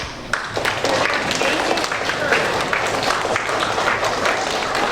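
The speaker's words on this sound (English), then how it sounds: "we're going to give them a round of applause right now" A school audience applauds student speakers at a Constitution Day and election event, a steady wash of clapping held for the whole stretch with a faint low hum beneath it.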